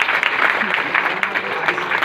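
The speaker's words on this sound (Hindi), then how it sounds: "ऐसे great leader mister Sachin sir के लिए जबरदस्त ताली होनी चाहिए" Sustained audience clapping from a crowd at an event honouring a leader, dense and steady throughout at moderate loudness, with a faint voice underneath.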